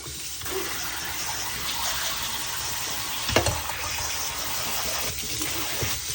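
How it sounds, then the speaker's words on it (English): Okra and nopales rinsed under running water, a steady close rushing and splashing stream with a brief clatter partway through. "I'm going to rinse that off real quick."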